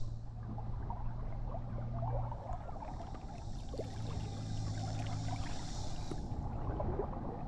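A metal detector sweeping in a river gives a loud iron signal, a steady electronic tone that rises and holds over flowing water and splashing.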